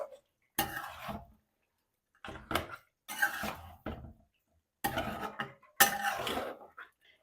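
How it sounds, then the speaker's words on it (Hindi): Spoon scraping and stirring mutton karahi in a pan, a series of irregular close clattering bursts of metal on metal separated by short silences. "चम्मच चला लूंगी तकरीबन आधा मिनट के लिए"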